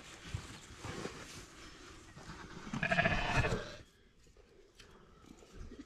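An exotic sheep gives a loud, close bleat in the middle of a pen, amid shuffling, handling noises and brief bursts of background sound.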